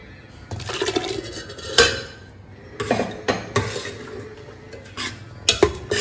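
Ground coconut, cumin and green chili go into a pot of cooked dal curry, with metal utensils clinking and scraping against the pot in several sharp bursts and a brief stir between them, close and fairly loud.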